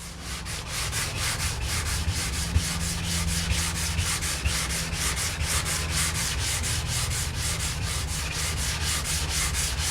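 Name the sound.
sanding wooden table top with 120 grit sandpaper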